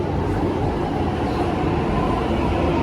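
Delhi Metro train pulling into a station, a steady broad rumble and rolling roar that fills the platform without a break, no voices over it.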